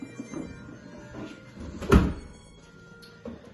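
A secret Star Wars bookcase door swings shut with a single dull thud partway through, over a faint low room rumble, and no voices.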